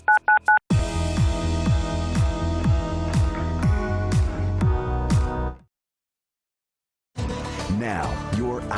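Telephone keypad tones beep in a quick run of dialing at the start, followed by a rapid series of descending tonal chimes, a brief silence, then more tones; clear and close, no talk over them.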